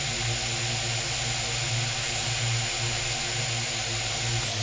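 Small drone propellers whine steadily during a slow landing, a constant close, dense buzzing hum with a high-pitched tonal whine, with no speech.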